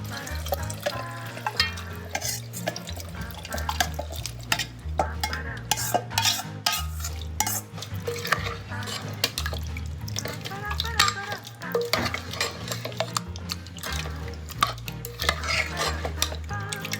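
Spoon scraping and stirring chicken into gravy in a pot, with clinks of metal on metal, over steady background music.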